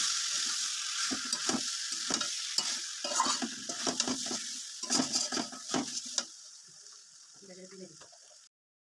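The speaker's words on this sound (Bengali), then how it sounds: "এবার আমি দিয়ে দিচ্ছি ধনে গুঁড়ো ও জিরে গুঁড়ো, দিয়ে আবার ভালো করে কষিয়ে নেব" Duck meat frying in a pan with coriander and cumin powder, crackling sizzle punctuated by repeated scraping stirs and utensil knocks against the pot, with a voice talking over it before the sizzle continues alone and cuts off.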